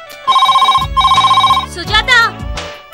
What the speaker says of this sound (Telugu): సుజాత, ఆ ఫోన్ లిఫ్ట్ చేయవా ప్లీజ్, నేను వచ్చేస్తున్నానని చెప్పు.